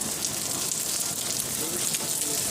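Heavy rain pours steadily outdoors in Alicante, a dense, even hiss that stays constant and fairly close with no pauses.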